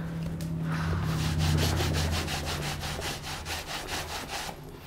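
A sock with cream is pressed hard and rubbed back and forth over a veg-tanned natural leather bag, making a steady rhythmic scrubbing of quick even strokes, close and continuous under a low background hum.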